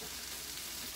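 Chicken frying in a pan gives off a steady, close hiss of sizzling fat, continuous and even throughout, with no voices.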